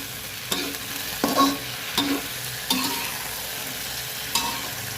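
Cabbage stir-fried with oyster sauce over high heat, a steady sizzle broken by five or so sharp scraping tosses of the spatula in the pan, close up with no voices.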